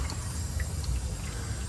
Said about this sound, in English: so now the water is filling up over here